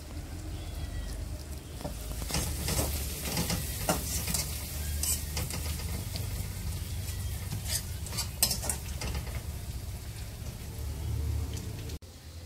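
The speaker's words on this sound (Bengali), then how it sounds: "আমার পেঁয়াজগুলো ভাজা হয়ে গিয়েছে, এখন আমি দিয়ে দেবো আলুগুলো।" Sliced onions sizzle steadily in a hot frying pan, a constant crackling hiss broken by the scrape and clink of a utensil stirring them.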